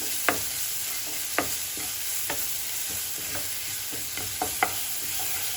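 Garlic and green chili paste frying over a low flame in a pan for Mumbai vada pav, with a soft steady sizzle and occasional sharp clicks of stirring.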